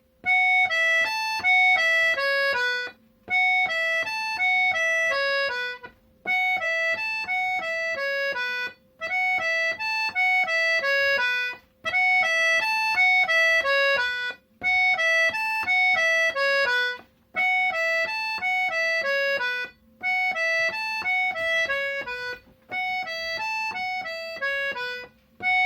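An accordion plays both halves of a folk tune together, a continuous run of bright reedy notes in repeated phrases with short breaths between, close and steady for about twenty-five seconds.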